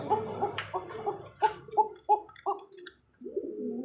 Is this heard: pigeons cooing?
yes